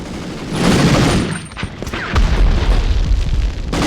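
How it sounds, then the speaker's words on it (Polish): Grenade blasts and gunfire in the 1999 Medal of Honor game, a run of booming explosions and crackling shots at moderate loudness, with no voices over them. "Ale łupią tymi granatami, słuchajcie."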